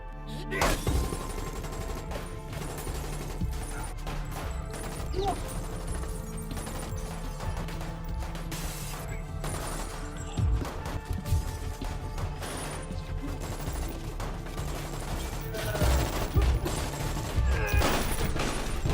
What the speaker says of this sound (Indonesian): baku tembak pun terjadi antara Hyungdu yang sendirian melawan semua rekannya